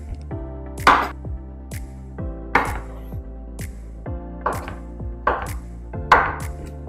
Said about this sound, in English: Time to start chopping.